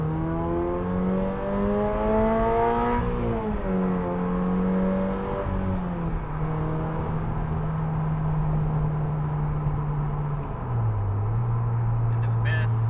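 A Toyota GR86 with an aftermarket exhaust accelerates hard in second gear. The engine note climbs steadily, drops briefly and rises again, then settles into a sustained loud drone near the microphone before the pitch shifts lower near the end.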